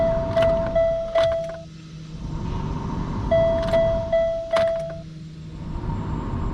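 An AEM electric fuel pump priming in a car: a close, loud whirring hum that rises and falls in repeated short cycles, with faint clicks and chimes marking each key turn.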